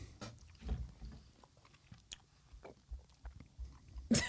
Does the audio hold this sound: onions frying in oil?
no